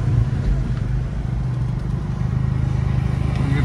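Volkswagen Golf 5 GTI with a stainless steel downpipe idling and revving nearby, a deep, throaty rumble with a steady pulsing beat that swells slightly toward the end.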